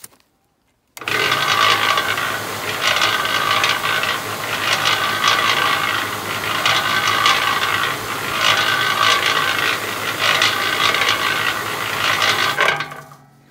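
Cement mixer running on a replaced electric drive motor, a steady loud mechanical whirring with rhythmic gear clatter and ratcheting, close up, starting abruptly and stopping after about twelve seconds, with no talking.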